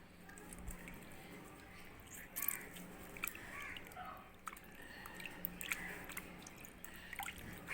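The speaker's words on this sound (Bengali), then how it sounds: "এইভাবে চিপে যতখানি সম্ভব আপনারা এই পানিটা বের করে নেবেন" Fresh mozzarella cheese is squeezed by hand to press out the whey, giving soft wet squishes and drips close by, quiet and irregular.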